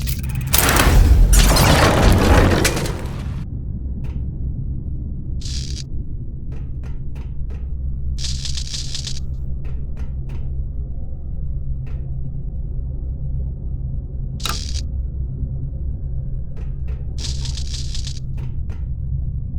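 A heavy bomb blast in the adventure game Verne: The Shape of Fantasy, a loud booming burst with rumble lasting a couple of seconds, then a quiet low room hum broken by short bright bursts of sound.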